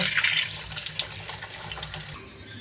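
Tap water runs steadily over prawns and fish pieces being rinsed in a sink, a close, hissing splash that softens toward the end.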